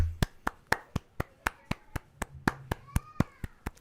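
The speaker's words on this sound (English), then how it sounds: "Let's actually just give a little round of applause for LL Cool J." Hands clap in a steady, evenly spaced rhythm of about fourteen sharp claps, close and fairly quiet, more like one or a few people clapping than a full crowd.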